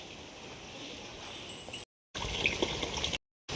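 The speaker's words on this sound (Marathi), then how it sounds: "आता मी कपडे धुवून घेते" Clothes being washed by hand with water at home, a steady moderate sloshing and pouring broken by two brief cuts to silence.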